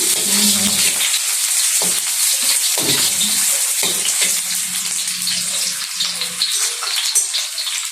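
Onion tossed into a pan for pumpkin perattal fries with a loud, continuous hiss and sizzle, close and steady throughout, with occasional stirring knocks and no speech.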